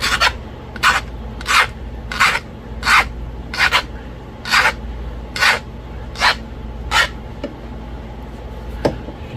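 A knife is drawn across a novaculite stone slab in about ten even, rhythmic strokes, each a close, bright rasping swish separated by brief pauses.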